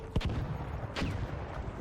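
Rockets launching in the video game ARC Raiders: two whooshing, booming bursts about a second apart over a steady roar of game noise.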